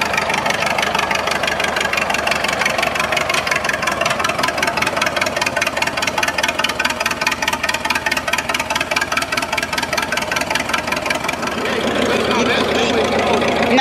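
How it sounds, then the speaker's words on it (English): A tractor engine chugs steadily at close range, its rhythmic pulsing continuing throughout with a slight change in tone near the end. "And you can hear him on the tractor now."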